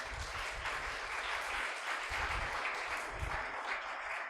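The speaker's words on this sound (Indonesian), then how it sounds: "Tepuk tangan untuk beliau." Audience applause fills a hall at a national anti-drug seminar held with BNN in Indonesia, steady dense clapping from a crowd lasting the whole stretch at moderate distance.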